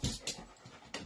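A dog pants in quick, breathy bursts, close and fairly quiet, with short gaps between the huffs and no barking.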